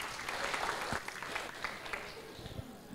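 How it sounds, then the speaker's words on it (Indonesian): Applause from an audience for a student named Chris at a university orientation session, a steady dense patter of many hands clapping throughout with no voices over it. "kita beri tepuk tangan buat Chris dulu"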